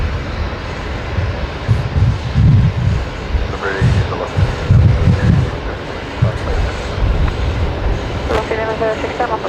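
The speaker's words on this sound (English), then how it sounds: "The wind is intense here right now." Strong wind buffets the microphone at Brisbane Airport, a loud continuous low rumble with gusty surges throughout, while distant aircraft or vehicle noise sits underneath and a voice is faintly audible.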